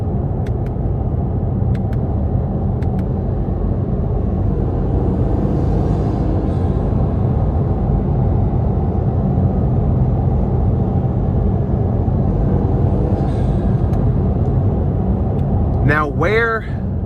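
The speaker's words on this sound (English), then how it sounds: "engine is right behind you, you hear those turbos putting in work" A 2019 Acura NSX Sport Hybrid, with its mid-mounted engine and turbos working while driving on a rough stretch of interstate, gives a steady, loud low rumble heard from inside the cabin, with a brief chirp at the end.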